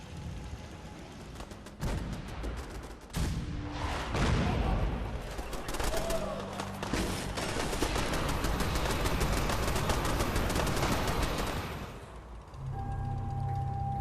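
Raiders attack a settlement in the Fallout 4 video game with dense, rapid gunfire and booming shots. The volleys run loud and continuous for several seconds and fade into a quieter tone near the end.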